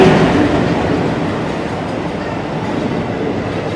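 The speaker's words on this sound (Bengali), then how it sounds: "এসে গেছে 12363 কলকাতা হলদিবাড়ি এক্সপ্রেস" The 12363 Kolkata Haldibari Express pulls into platform 2 at Barddhaman Junction, a steady loud rumble of rolling wagons and wheels filling the clip with no pauses.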